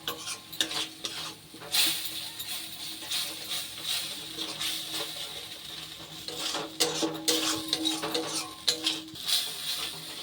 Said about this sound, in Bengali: দই দিয়ে মশলার সাথে ভালোভাবে মিশিয়ে নিচ্ছি।